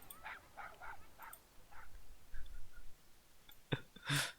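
A small dog whimpers and yips in a series of faint, thin cries, followed by a louder yelp and a sneeze-like burst near the end, with no speech over it.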